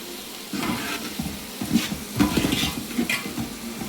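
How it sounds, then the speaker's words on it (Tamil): Chicken curry masala sautéing in a pan for a Kerala-style chicken curry, with steady close sizzling and repeated scraping stirs from a utensil against the pan. "நல்லா வதக்கணும்."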